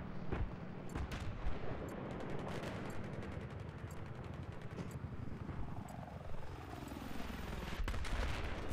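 Helicopter rotor drone in Battlefield 3 multiplayer on Kharg Island, a steady loud wash with scattered gunfire cracks and bursts throughout, and a rising whine near the end.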